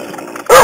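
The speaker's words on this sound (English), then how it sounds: "So hopefully he's a good dog growling and all of that there." ROBOTIS PLAY 700 Moody DogBot robot toy dog: after a low electronic hum, a single short, loud synthetic bark bursts out at the very end.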